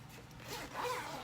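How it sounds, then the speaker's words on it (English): A zipper slides shut along a waterproof, water-resistant bag in one quick, close, fairly quiet pull, with no talking. "and then it zips completely"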